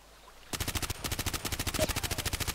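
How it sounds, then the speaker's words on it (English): Enemy gunfire in the Contract Wars shooter game breaks in suddenly as a rapid, loud automatic burst of evenly spaced shots, continuing steadily after a quiet opening with no talking. "You see how he's shooting at me."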